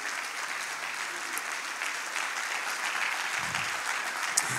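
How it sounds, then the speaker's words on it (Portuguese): A church congregation applauds together, a sustained, moderately loud patter of clapping that runs evenly throughout with slight swells near the end. "Vamos aplaudir o Senhor pela mensagem que foi pregada."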